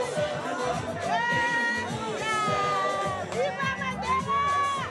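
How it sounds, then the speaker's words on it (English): A crowd gathered at a South African prison marks the 25th anniversary of Mandela's release, with loud continuous cheering, shouting and chatter, and bursts of raised voices rising over a dense babble. "a much smaller crowd turned up at the prison to celebrate"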